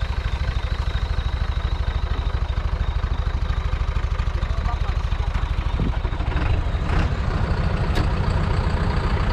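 An MF 135 tractor engine rumbles steadily with a dense low diesel chug, close and loud throughout, with a few brief clanks and talk in the background.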